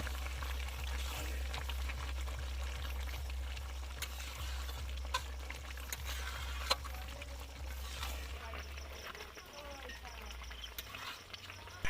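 Goat meat curry with added goat fat sizzles and fries in a pan while being stirred, giving a soft, continuous crackle with faint scraping and a low background hum.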